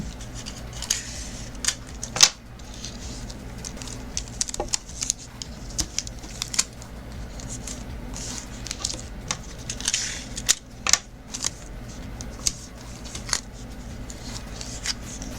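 Scissors snip through tape-covered paper in a series of crisp, close cuts, irregular and spaced apart, with quiet handling rustles between them.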